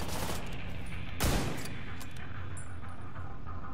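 Gunfire in the video game The Division 2, a dense continuous burst of shots over a loud constant din, with one sharper heavy blast standing out, no speech.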